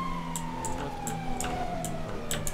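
Police car siren in a video game, a steady wailing tone with repeated sharp high chirps layered over a constant low engine drone, loud and continuous with no talk.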